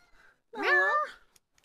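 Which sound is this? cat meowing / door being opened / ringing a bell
cat meowing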